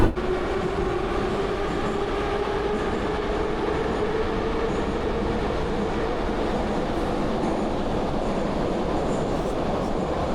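Metro train in Azerbaijan rumbling steadily at close range, with continuous wheel and motor noise and a faint rising whine, no talk.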